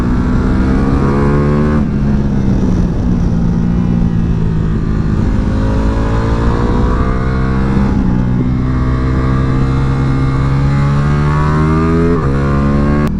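A Ducati Multistrada V4 Pikes Peak motorcycle with a 180 hp V4 engine being ridden, its engine droning loud and close with repeated rising revs through the gears and brief dips between shifts, no talk over it.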